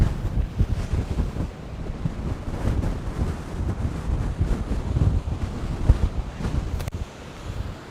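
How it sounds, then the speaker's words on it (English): Strong wind buffets and roars across the microphone in continuous rumbling gusts, loud and close, with no voices, outdoors at night in Western New York during lake-effect snow season. "Little windy out here."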